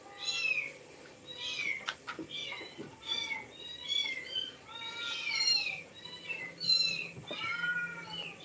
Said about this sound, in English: the cat always makes sound